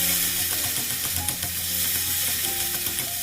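Carrots are stir-fried for japchae with the pork already in the pan, giving a loud, constant close sizzle with scraping stir strokes and light clinks throughout.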